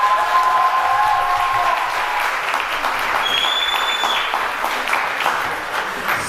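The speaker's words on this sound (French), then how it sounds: "messieurs, dames, je vais vous demander de les applaudir" A seated audience at a Rotary youth leadership event fills the room with steady, sustained applause for a performing duo. It stays full and even throughout, with a few brief tonal squeaks over the clapping.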